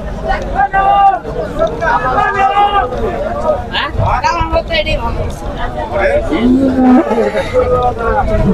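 Cattle moo repeatedly at a crowded Qurbani livestock market in Singra, with several calls rising over a dense babble of voices and people talking throughout.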